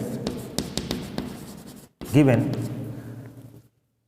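Handwriting on a board or page during a geometry lesson, a run of short scratchy strokes and taps, with a brief spoken voice partway through.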